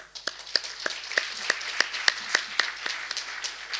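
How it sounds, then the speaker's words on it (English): Hands clap at a business forum for the moderator, a dozen or so sharp, evenly spaced claps heard up close, thin rather than a full crowd. "join me in a big round of applause for our moderator, Amelie"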